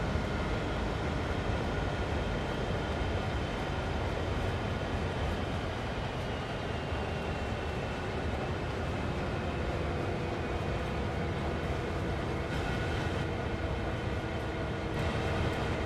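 Freight train running on the Sand Patch Grade route in the video game Train Sim World 2, a loud, steady, unbroken rumble of engine and rolling wagons throughout.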